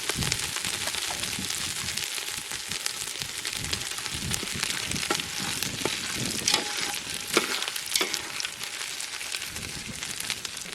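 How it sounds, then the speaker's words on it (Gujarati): Asafoetida, green chillies, ginger, garlic and red chilli powder sizzle in hot oil for a village-style Kathiyawadi undhiyu tempering, a dense, steady crackle with sharp pops scattered throughout, close and alone. "આનો બધો વઘાર થઈ ગયો"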